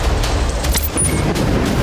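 Explosions and gunfire at Al-Shifa hospital in Gaza at night, heard as a continuous loud rumble of booms with sharp bursts of shots throughout, no voices.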